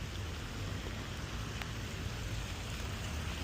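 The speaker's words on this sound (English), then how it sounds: "It's actually raining quite hard" Heavy rain falls steadily in the middle of Amsterdam, a dense, even hiss of drops hitting surfaces nearby, with no voices heard.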